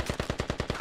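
Rapid gunfire in a video game, about nine evenly spaced shots in under a second, sharp and moderately loud.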